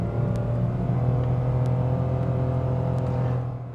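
A 2020 Mitsubishi Mirage G4 LE is floored in sport mode, its small engine giving a steady, strained droning hum from inside the car that barely climbs in pitch, with faint ticks on top.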